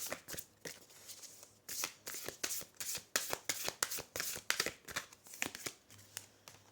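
Oracle cards shuffled by hand in a rapid run of crisp riffling bursts and soft slaps, close and clear with no talking.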